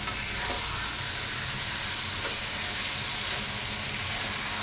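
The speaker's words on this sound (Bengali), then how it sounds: "একটু বেশি তেল দিয়ে ভাজা ভাজা করছি" Chickpeas fry in a generous amount of hot oil for an iftar snack, giving a steady, close, continuous sizzle with faint crackles throughout and no talking.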